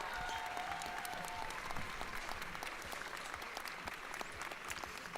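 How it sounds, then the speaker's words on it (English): Steady applause from an audience at a chalk-drawing show, a continuous patter of clapping throughout, fairly faint and even. "here's your applause"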